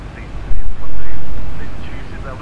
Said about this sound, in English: you can hear them engines sort of spooling around a little bit